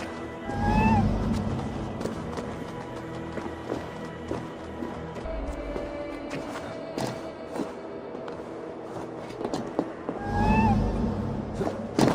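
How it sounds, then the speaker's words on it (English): A cat in the Assassin's Creed Valhalla video game gives a couple of short, mid-loud meows among thuds, footsteps and game ambience. "Who put you up here, little cat?"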